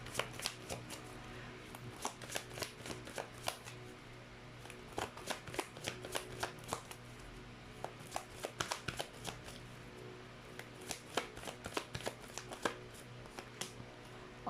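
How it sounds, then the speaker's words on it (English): A deck of cards being shuffled close by, quiet riffling bursts and soft slaps repeating in irregular clusters, with no talking. "Let's actually shuffle again."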